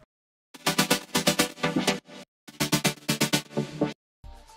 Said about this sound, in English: I just use the simple supersaw layer and I just